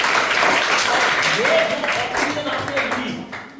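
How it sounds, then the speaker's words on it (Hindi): An audience at a school science awareness program breaks into dense, sustained clapping that gradually thins out toward the end, with a voice speaking over it. "ताली नहीं बजाओगे सब लोग एक बार?"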